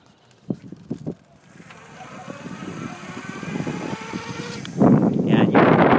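Electric hub motor of an eZip Trailz e-bike, 450 watts with sealed lead acid batteries, in twist-and-go mode. A few clicks and knocks come first, then a faint whine builds steadily as the bike accelerates, swelling to a louder rushing near the end.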